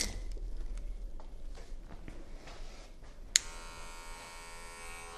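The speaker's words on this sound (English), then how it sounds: "I'm going to take my comb and my clipper without any guard on it" Electric hair clipper with no guard fitted, used in a barbershop fade and trim, starts up with a click partway through and buzzes steadily and loudly after quieter handling noise.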